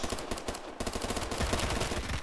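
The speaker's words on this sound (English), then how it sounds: "Shot him 2 times." Rapid gunshots in the Roblox game Phantom Forces, fired as fast, loud automatic bursts that run almost without a break.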